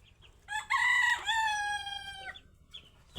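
A hen at the nest where white Chinese duck eggs are being slipped beneath her gives one drawn-out, ringing call lasting over a second, close by, with quieter shuffling before and after.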